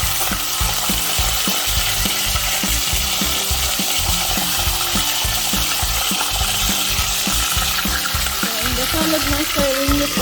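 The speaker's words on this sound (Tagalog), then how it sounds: "Start frying the galonggong." Galunggong fish frying in a pan on a Salad Master stovetop, a steady, dense sizzle and crackle that fills the whole stretch at an even, fairly loud level.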